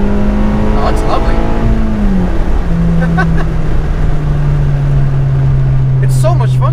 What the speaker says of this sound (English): It's so much fun to drive a car like this.